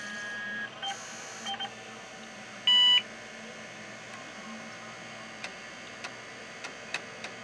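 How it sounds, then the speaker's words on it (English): A single short electronic beep from an IBM PS/2 Model 30 (8086) running a diagnostics diskette stands out over a quiet room, followed by faint scattered ticks and clicks. "that definitely is the beep of the Diagnostics diskette"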